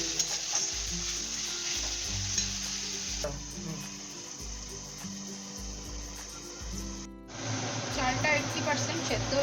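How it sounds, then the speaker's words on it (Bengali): Onions fry with salt in a pan for an egg biryani, making a continuous close sizzle with brief stirring scrapes. A hiss cuts out once and then returns, and a person talks intermittently over the frying. "পেঁয়াজটা একটু লাল লাল করে ভাজা হবে।"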